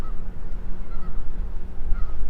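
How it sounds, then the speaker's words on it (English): Geese honk a few times from somewhere across the road near a ditch pond at a nature preserve in De Pere in late March. The calls are faint and distant, spaced about a second apart over steady outdoor wind noise. "that might be where the geese are"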